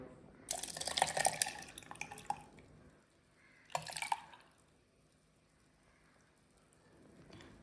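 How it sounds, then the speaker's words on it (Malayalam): Milk is poured into a jar of beetroot juice: a two-second splashing pour, a shorter second splash after a pause, then quiet. "അപ്പോൾ അത് മിൽക്ക് ഇതിലേക്ക് ആഡ് ചെയ്ത് കൊടുത്തിട്ടുണ്ട്"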